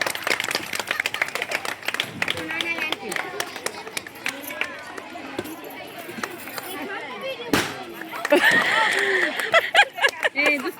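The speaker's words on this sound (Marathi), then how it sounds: "मुलं मुलं टाळ्या वाजवा" Children clapping along during a balloon party game at a Haldi-Kunku gathering, scattered sharp claps mixed with excited chatter and voices throughout, growing louder and busier near the end.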